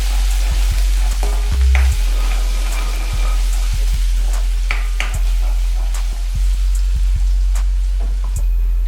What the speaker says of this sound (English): first let's put chopped ginger, garlic and cinnamon into heated oil.